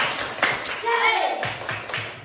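A school class performs the rhythmic 'tepuk semangat' spirit clap, sharp patterned handclaps in quick bursts mixed with children's voices chanting along at close range.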